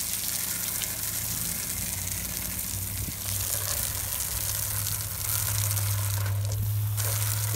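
A steady water spray rinses a house gutter after whitening and scrubbing, giving a continuous close gushing hiss with a rising low rumble toward the end, with no voices.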